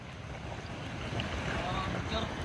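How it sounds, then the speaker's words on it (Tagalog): Steady rushing surf and wind buffeting the microphone, a constant broadband roar near and loud, with a faint boat hum underneath, at an island shore near Parola during the southwest monsoon. "Kasi malakas pang alon."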